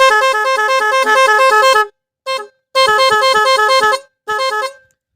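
Motorcycle horn sounding in a musical pattern: a long loud warbling blast, a short burst, another long blast and a final short toot, close and clear with silent gaps between.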